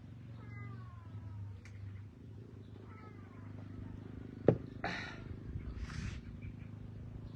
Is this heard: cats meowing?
yes